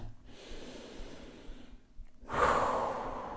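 Heavy breathing after a body yoga session: slow, audible inhales and exhales close to the mic, ending in a louder, breathy gasp as the person recovers.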